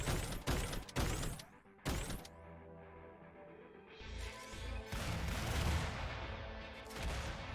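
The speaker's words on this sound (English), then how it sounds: "Kind of want to see these cluster bombs in action." Cluster bombs going off in the video game Sky Cannoneer: a few sharp, loud blasts at the start, then a rumbling, crackling spread of smaller explosions rolling on afterward, with no talk.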